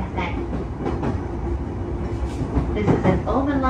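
A JR E233-0 series train runs on the Ome Line between Ikusabata and Okutama, with a steady loud rumble of the car and rhythmic rail-joint clacks, heard from inside and under faint announcement-like voices.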